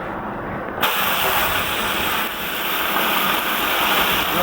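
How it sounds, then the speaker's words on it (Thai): A sudden loud hiss and sizzle erupts as water spinach hits hot oil in a wok, then keeps spitting and crackling steadily, close and without speech. "เตรียมกระทะน้ำมันเดือดร้อนแล้วครับแบบที่นี่ ต่อไปเราจะพักบุ้งลงครับ"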